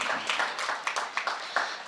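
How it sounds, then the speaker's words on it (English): Conference audience clapping at a reentry event, a steady patter of many hands with rhythmic peaks, moderately loud and without talk. "You're not going to be clapping in a little bit"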